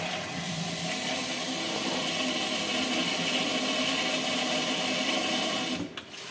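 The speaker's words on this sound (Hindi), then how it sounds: "तो भी ये बिना किसी कमांड के अपने आप को ऑटो फ्लश करेगा, ऑटो क्लीन करेगा, ऑटो हाइजीन करेगा।" A Bathsense smart toilet seat runs its automatic flush and self-cleaning cycle, a steady mechanical whir and water hiss held for about six seconds before stopping abruptly.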